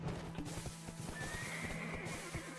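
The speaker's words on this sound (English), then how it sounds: "So your horse lands, does a little shimmy, and you want to make him hop again." In the Black Desert Online video game, a horse whinnies over rapid, steady hoofbeats, with a faint, even tone underneath and no talking.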